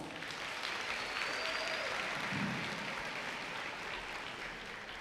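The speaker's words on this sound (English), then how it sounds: "Give yourselves a round of applause." Steady applause from a sizable crowd at a high school graduation, dense clapping holding at an even level throughout without a break.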